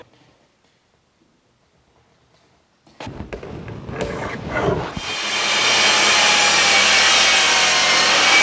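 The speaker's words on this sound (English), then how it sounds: "cut it to length with my track saw" A track saw starts up and cuts a glued-up wooden sliding barn door to length, with a few clunks of handling first, then a loud, steady whining cut that holds to the end.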